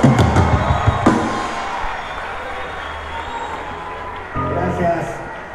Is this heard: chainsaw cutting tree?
no